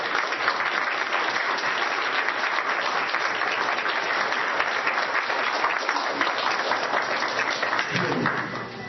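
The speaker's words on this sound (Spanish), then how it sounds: "quiero pedir un fuerte aplauso y una cálida bienvenida a Carlos" Sustained audience applause welcoming a speaker at a spiritual healing event in Lima, Peru, dense steady clapping filling the room throughout, fading slightly at the very end.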